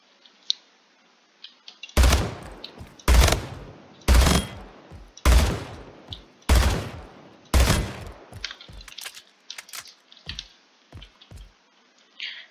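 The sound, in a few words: fully automatic pistol gunfire in video game Splitgate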